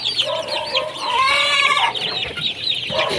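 Hens and young chicks cluck and peep continuously in a poultry setting, a busy overlapping chorus of high chirps and softer clucks heard close by.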